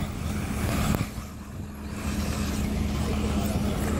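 Rallycross cars race in a final heat at Joensuu, one car overtaking another amid bumping; a steady, dense roar of engines hums throughout, loud and continuous with a brief sharp knock near the start.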